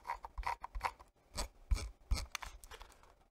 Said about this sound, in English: right click, scroll wheel click, scroll wheel movement